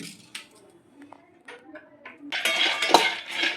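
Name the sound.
peanuts being roasted and stirred in a pan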